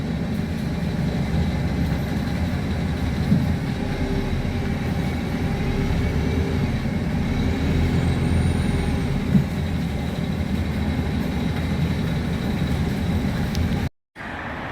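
A Stagecoach West bus on the Stroud to Cheltenham route passes by with a loud, steady diesel engine rumble and road noise, staying constant throughout before cutting off abruptly near the end.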